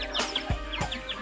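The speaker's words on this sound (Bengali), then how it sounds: "এই দেখো মুরগিটা ছেড়ে দিলাম" A chicken just let loose in a rural yard gives a few short, soft clucks and chirps nearby, with a low thump midway and quiet ambient noise.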